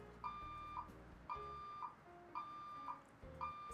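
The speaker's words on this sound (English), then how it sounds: "Silly fire alarm." A fire alarm sounds in a repeating pattern of sharp electronic beeps, two tones per burst, coming about once a second and fairly faint.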